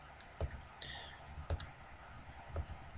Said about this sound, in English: Now I'm just going to start clicking around the edge of Grumpy Cat's face.